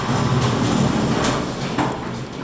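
Hydraulic elevator doors slide at an IKEA shopping centre with a steady rumbling rush and a few faint clunks, fairly loud, over about two seconds.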